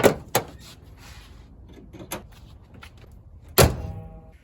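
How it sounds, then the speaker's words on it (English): Hood of a Nissan 370Z being closed, with a sharp thunk at the start, another shortly after, and a loud final slam later, separated by quieter handling noises. "it's time to close the hood"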